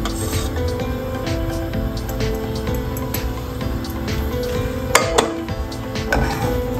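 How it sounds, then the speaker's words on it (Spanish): A frying pan is set onto a stove over high heat while making a Spanish potato tortilla with olive oil, giving a couple of sharp metallic clanks midway over a steady kitchen background hiss and faint clinks. "Ahora sí ponemos el sartén a fuego alto"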